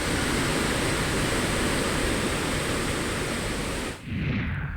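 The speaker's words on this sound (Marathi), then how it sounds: "हा राजापुरातील हा धबधबा आहे" A waterfall beside a temple in Rajapur, swollen by heavy monsoon rain, pours down in a steady, loud, broadband roar that breaks off abruptly near the end.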